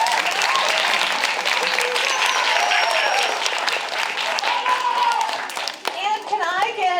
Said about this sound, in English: So a round of applause for Zinnia